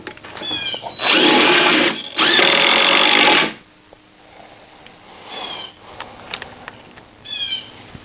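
A power drill drives long lag bolts through stubby legs into the stairs of a twenty-foot deck ramp, two loud whirring bursts of a few seconds each, then quieter ambient outdoor sounds with birds.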